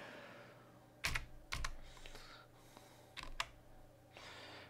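Code being typed on a computer keyboard gives a few sparse, sharp key clicks and short bursts of taps, quiet and close, with gaps between.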